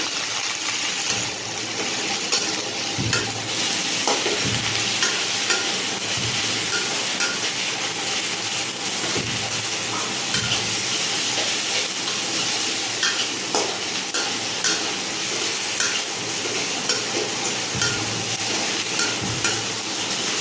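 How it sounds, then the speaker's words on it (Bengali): Chopped onion fries with garlic and ginger paste for dim posto, giving a continuous close sizzle broken by repeated utensil scrapes and clinks against the pan at an uneven stirring rhythm, with no talk. "পেঁয়াজ আর রসুন আর আদা বাটা হয়ে গেলে এটা পেঁয়াজ কুচির মধ্যে দিয়ে দেবো। তারপর ওটাকে ভালো করে নাড়াচাড়া করে দেবো।"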